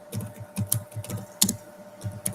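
Keys on a computer keyboard clatter in quick, irregular bursts of close, crisp clicks during a university library portal search, with no voices.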